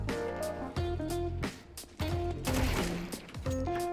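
Bursts of rapid gunfire in Counter-Strike 2 rattle over steady game music and tonal sounds, with several clusters of shots spread across the scene and no talk.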